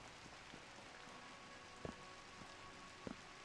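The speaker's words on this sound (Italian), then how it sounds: "piove" Rain falls in the video game Citadel: Forged with Fire, a steady soft hiss of rainfall with a few sharper drop taps, faint and without talk.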